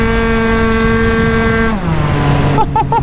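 Tuned 50cc two-stroke moped ridden at high revs, a loud, buzzing whine with sharp harmonics that holds steady, then drops in pitch as the throttle eases, with brief warbling blips near the end.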